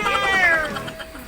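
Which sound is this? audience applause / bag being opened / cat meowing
cat meowing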